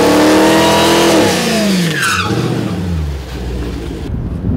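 A Dodge Demon drag car's engine roars and revs hard, pitch climbing then dropping as the car launches away on a quarter-mile run, close and very loud.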